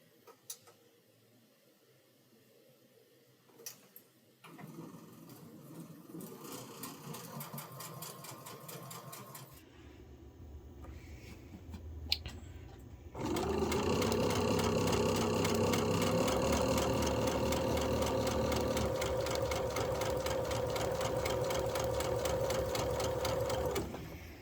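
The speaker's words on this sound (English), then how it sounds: "let's get these sewn up together." A sewing machine stitches quilt blocks, starting with quiet handling and a few clicks, then running loud and steady at close range for the last ten seconds.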